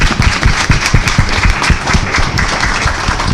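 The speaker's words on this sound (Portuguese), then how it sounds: "Vamos aplaudir todos eles." An audience applauds loudly and continuously, dense clapping from many hands filling the room at close range for several seconds.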